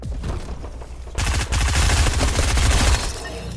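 Rapid bursts of pistol gunfire in a shooter video game, a softer volley first, then a loud sustained run of sharp, closely spaced shots that ends abruptly, with no talking over it.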